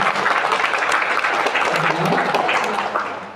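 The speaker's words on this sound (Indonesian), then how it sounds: "Ayo tepuk tangan buat teman-teman." An audience at a talk with dancer Didik Nini Thowok breaks into dense, continuous applause that holds at an even level throughout, with some voices mixed in.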